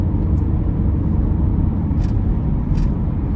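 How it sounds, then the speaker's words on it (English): A 2019 Mercedes-AMG C63 S Brabus 900 under way, its exhaust a deep, steady low rumble dominating the cabin, with a couple of brief airy hisses over the top and no voices. "And the exhaust sound is just so menacing."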